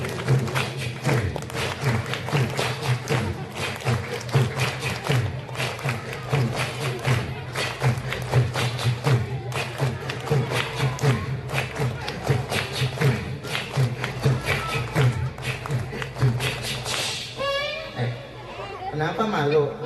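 Children at a Maulid Nabi celebration clap their hands together, a dense, continuous patter of claps from a crowd that goes on throughout, with chatter and an adult voice talking over it.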